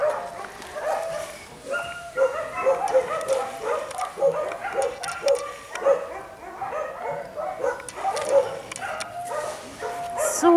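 A young puppy barks and yips repeatedly in an irregular, excited series of short, high, fairly close calls, with occasional whimpers mixed in.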